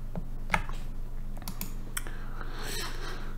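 Arrow keys on a computer keyboard are tapped to scroll through a PDF, giving a series of crisp, close plastic clicks at irregular spacing over a low, steady background hum.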